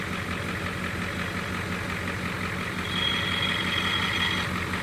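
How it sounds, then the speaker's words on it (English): A Ford 7.3 IDI Powerstroke diesel engine idling in an old truck, a steady, loud, even chugging rumble with a dense low-pitched knock that holds constant throughout, with no talking. "we're going to let it idle for 15 minutes, clean it out"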